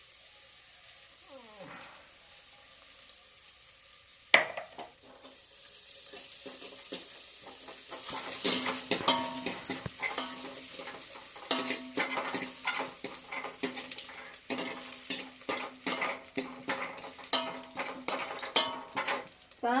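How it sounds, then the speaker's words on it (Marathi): Grated coconut and garlic roasting in oil in a pan on a gas stove for a cowpea curry, with steady sizzling, stirring scrapes and clinks of a utensil against the pan, close and moderately loud. "चांगलं खोबरं लसूण भाजू द्यायचं."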